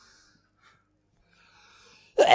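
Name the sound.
sneeze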